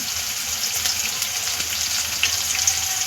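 Chopped onion sautés in a pan with slit green chilli and turmeric for a potato bhaji, giving a steady, close sizzling hiss with faint spatters throughout and no talking.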